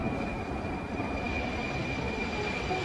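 A Tashkent metro train at a station gives off a steady, even rumble with a thin sustained whine above it. The sound stays constant throughout with no voices.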